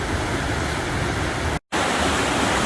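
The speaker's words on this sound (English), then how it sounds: "we are now at Upper Falls, Copeland Falls" Copeland Falls in Rocky Mountain National Park gives off a steady, loud rushing roar of falling water, with one brief drop to silence before the roar picks up again.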